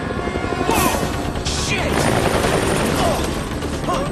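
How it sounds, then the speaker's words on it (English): A helicopter in the Dead Rising video game roars loudly and steadily throughout, mixed with crashing and gunfire-like bursts, while someone shouts brief exclamations over it. "Helicopters are pretty loud."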